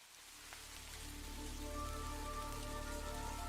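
Steady rain pours over a city, a dense hiss of drops on surfaces that swells slightly and then holds constant, with faint low tonal hums underneath.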